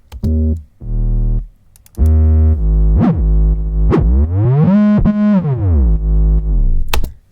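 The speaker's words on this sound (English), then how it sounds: "I actually like some of the rolls I did on this track, on the 808s." Trippy 808 bass drum rolls from a hip-hop beat made in Ableton: loud, booming hits that stutter in quick rolls and swoop up and down in pitch, heard alone without talk.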